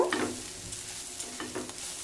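A spatula stirs spices and salt in a pan for hilsa malaikari, giving a close, scraping sizzle with several brief strokes spread across a couple of seconds.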